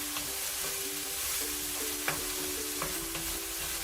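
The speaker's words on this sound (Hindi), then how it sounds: "यहाँ पर प्याज को मैंने ब्राउन जो है वो कर लिया है।" Finely chopped onions sizzle and fry in a pan while being stirred, a steady close crackle with a few light scraping clicks from the spoon.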